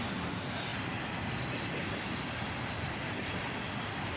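A long double-stack intermodal freight train passes under a highway overpass, making a steady, loud rumble and rolling wheel noise with faint squeal, constant throughout.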